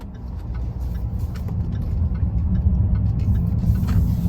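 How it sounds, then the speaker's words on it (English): A 2017 Jaguar XE 35t R-Sport in dynamic sport mode accelerates, heard from inside the cabin as a steady, loud low engine rumble with faint ticking over it. "The XE absolutely takes off."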